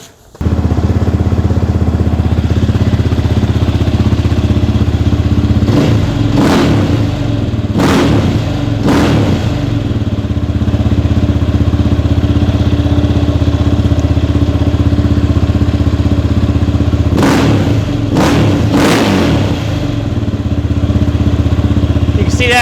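A motorcycle fitted with a Rekluse Radius X auto clutch idles loudly and steadily up close, with several sharp throttle revs rising and falling in two clusters over the continuous engine rumble.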